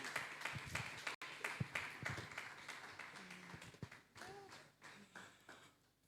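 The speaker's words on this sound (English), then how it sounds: "Please, with a resounding round of applause, let's welcome the person of David Ogebe." Scattered audience clapping at a public speaking event, uneven and sparse with distinct individual claps and taps, moderately distant, thinning out toward the end as a few faint voices murmur.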